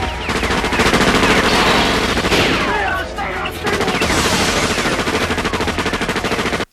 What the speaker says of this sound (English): But then we wouldn't have this scene of Tequila saving both of their asses from getting shot about a dozen times each.